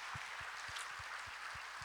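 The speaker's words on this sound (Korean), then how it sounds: "수고하셨습니다 하고 박수 한번 하겠습니다." A church congregation gives a round of applause after a sermon: a faint, steady wash of many hands clapping at a distance, with low thumps underneath.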